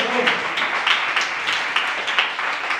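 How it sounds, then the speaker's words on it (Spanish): Church congregation applauding, a steady patter of many hands clapping at moderate distance, without talk. "Den un aplauso al Señor por esa fidelidad."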